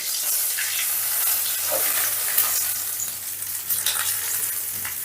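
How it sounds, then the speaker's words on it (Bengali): Pangas fish sizzling and frying in hot oil, a steady crackling hiss with light bubbling that runs for the whole stretch, close by, with no voices. "সমস্ত মাছগুলোকে আমি লাল লাল করে ভেজে নিয়েছি।"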